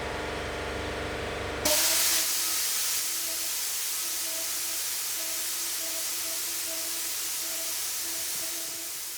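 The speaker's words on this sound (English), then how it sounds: "the emergency valve in my air compressor blew up" An air compressor's emergency valve blows open with a sudden loud burst, then air hisses out continuously and strongly, slowly easing off over several seconds.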